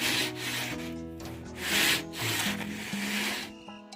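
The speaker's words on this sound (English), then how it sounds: "And after running over it with the sandpaper, you're left with a much smoother surface and less chance of splinters." Sandpaper rubbed back and forth over a wooden slot-car track baseboard, a steady close scratchy rasp in rhythmic strokes with brief swells, heard alone without talk.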